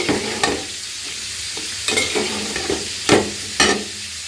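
Potatoes and pointed gourd stir-fry in a spice paste, a close sizzle broken by several sharp spatula scrapes and stirs.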